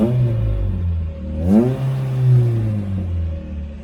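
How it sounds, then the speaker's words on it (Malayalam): A 2005 Maruti Suzuki Gypsy MPFI engine, a civilian model with a five-speed gearbox, cranks into life and then runs at a steady idle. It gives one clear rev surge midway, and the engine noise is close and loud with no talking. "വണ്ടി ഒന്ന് സ്റ്റാർട്ട് ചെയ്ത് നോക്കാം"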